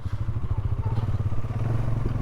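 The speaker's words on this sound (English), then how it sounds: "That's how you ride a Polaris" A Polaris off-road vehicle rides through a desert canyon in the Panamint Mountains near Ballarat, its engine a low throbbing rumble, close and steady, with rattling over rough ground.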